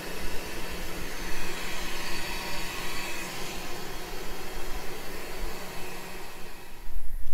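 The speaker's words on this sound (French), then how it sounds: "il est au ralenti, ça tourne, ça fait presque plus de bruit et puis les brosses tournent" Realme TechLife robot vacuum cleaner with LIDAR running at low speed with brushes turning, giving a steady broadband whir and hiss that holds level throughout, with no talk.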